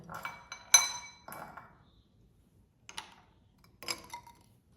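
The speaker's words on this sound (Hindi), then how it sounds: "अब ऊपर से हम इसमें थोड़ा सा और आइस क्यूब को डाल देंगे" Ice cubes clink and tumble into a glass of Ramadan sharbat lemonade, a cluster of bright clinks followed by a few sparser hits, close and clear with quiet pauses between.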